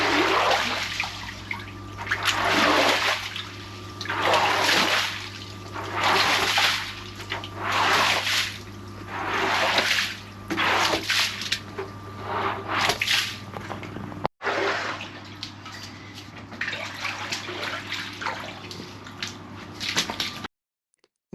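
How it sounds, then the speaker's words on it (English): Squeegees push shallow, fairly clean floodwater across a floor and out through a door, a rhythmic series of wet sloshing, squishing strokes repeating every couple of seconds, close and fairly loud, with no talking. "So I brought a selection of squeegees, and I think what we're going to do is just push it out this door."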